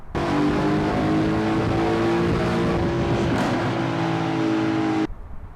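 A loud, high-revving race car engine, one that overheated, roars continuously for about five seconds, steady and close, then cuts off abruptly.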